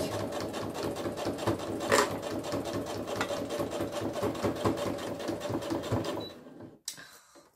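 A sewing machine stitches a zipper pouch in a steady, close, continuous run of rapid needle strokes, then stops abruptly near the end, leaving near silence apart from one brief knock.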